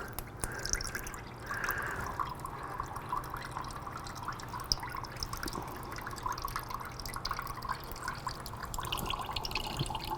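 Radiator coolant drains from a Honda CBR 1000rr motorcycle in a steady, faint trickle and patter of liquid that carries on without a break.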